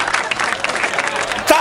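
Audience at a Hindi comedy show bursts into applause, a short dense wash of clapping with a brief louder swell near the end, heard over some overlapping talk.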